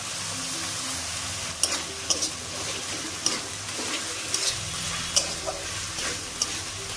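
Banana flower chop mixture with onion paste and chopped green chili is stirred in a frying pan, a steady low sizzle broken by several sharp spoon scrapes and clinks against the pan, close and alone without talk.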